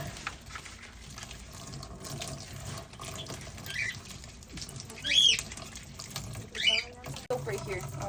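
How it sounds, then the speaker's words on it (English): Tap water runs into a sink during handwashing while brownies are being made at home, a steady low splashing stream under nearby speech and laughter, with a few brief sharper splashes. "So wash your hands so that you don't get soap back on the spoon"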